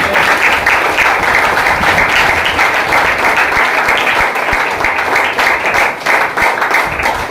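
A congregation at a Christian gospel gathering claps for God. Dense, loud, steady applause from many hands runs the whole time with no pause.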